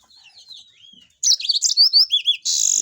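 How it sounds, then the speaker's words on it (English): A champion domestic canary sings in bright, high, rapid chirps and warbling trills. A faint early phrase gives way to a loud, close burst of varied song and a sustained buzzing trill. "This is a canary."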